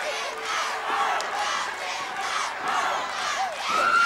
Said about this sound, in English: They're starting to chant on their favorites in this bout.